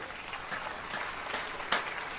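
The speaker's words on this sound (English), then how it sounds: "How many people here by applause are 45 or older? 45 or older, applaud." Applause from a large comedy-show audience of people aged 45 or older, thin and scattered rather than thunderous, holding steady for about two seconds with a slightly louder burst near the end.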